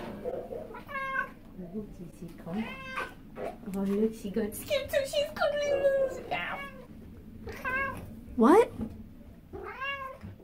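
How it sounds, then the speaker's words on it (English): Cats at an animal costume pet party meow repeatedly in short, rising calls, close and fairly loud, mixed with someone talking over them. "You guys are messy cats, aren't you?"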